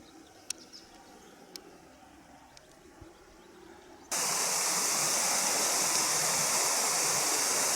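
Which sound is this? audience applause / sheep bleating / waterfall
waterfall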